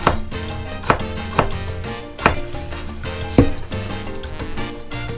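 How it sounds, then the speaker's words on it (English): A kitchen knife slicing a jalapeno into thin rounds on a cutting board, firm close chops at a steady uneven rhythm, about six distinct strikes over a low background hum. "Just cut that in some real thin rounds."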